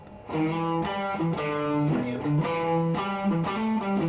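Distorted electric guitar plays a rhythmic riff of repeated chords and notes, gritty and sustained, with no voices.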